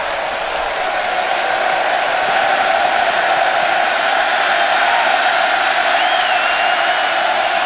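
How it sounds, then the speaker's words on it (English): A packed college football stadium crowd at Nebraska versus Texas A&M roars in a sustained, dense wall of cheering and yelling, loud and unbroken with a few whoops rising above it. "This crowd will be alive."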